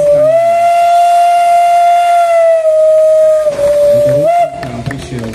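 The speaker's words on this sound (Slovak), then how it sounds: "Zelený Anton Natočný, ešte raz nám zapískaj." A steam locomotive nicknamed Zelený Anton blows a loud, sustained whistle for about four seconds at a railway depot event, ending with a short extra toot before crowd murmur remains.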